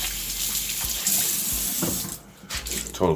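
Tap water runs steadily into a sink to wet a microfiber cloth, close and fairly loud, then briefly drops away before a short final splash.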